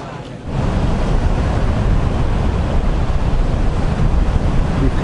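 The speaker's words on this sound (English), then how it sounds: "We've come back down to the beach and that's our ship right there." Ocean surf on the Melbourne, Australia beachfront makes a loud, steady roar of waves mixed with heavy wind buffeting the microphone, starting abruptly after a brief quieter moment, with no talking.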